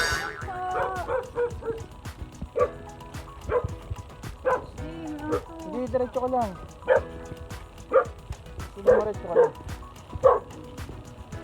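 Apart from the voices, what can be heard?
dog barking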